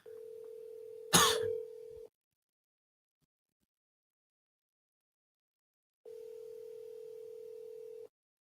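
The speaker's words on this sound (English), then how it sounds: "So let's go ahead and call John." A telephone dial tone sounds steadily for about two seconds during an outgoing call, cut by a short cough, then silence before the tone returns for another two seconds, clear and close.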